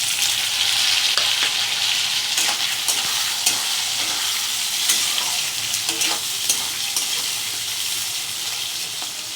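Chopped onion and tomato frying in a hot pan, a loud continuous sizzle broken by repeated scraping strokes of a spoon stirring, with no talking.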